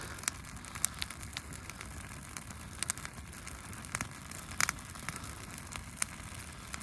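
Sharp irregular crackles and pops scatter over a steady low hiss, a small campfire burning nearby in the snowy Alaska wilderness, fairly quiet and unaccompanied by voices.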